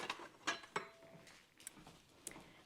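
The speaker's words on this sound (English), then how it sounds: "I had to grab a ladle. I forgot to get it out." Metal kitchen utensils clink and rattle as a ladle is pulled from a holder in a home kitchen, a few sharp, quiet clanks followed by softer faint handling sounds, with no talk.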